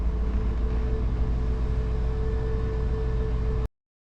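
A 2001 Silverado 2500HD truck idles while parked, heard from inside the cab as a steady, moderately quiet low rumble with a faint constant whine, cutting off abruptly near the end.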